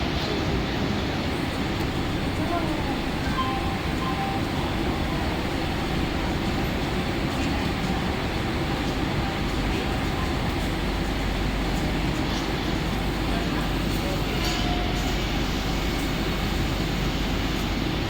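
A slow Mumbai local train bound for Thane arrives at platform 1 with a continuous, loud, broadband rail roar that holds steady for the whole stretch, and no voices are heard.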